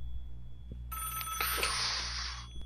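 A telephone ringing in the video game Five Nights at Wario's 2, a single bright electronic ring burst lasting about a second and a half over a low background hum, with no talk.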